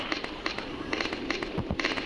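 Zombies burst apart in a video game with a quick string of sharp popping explosions, roughly a dozen light pops in an uneven rapid rhythm, fairly faint and heard alone.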